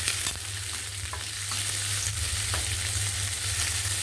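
Onions, green chillies and curry leaves fry steadily in a hot pan, giving a continuous close sizzle with occasional stirring scrapes and no talking.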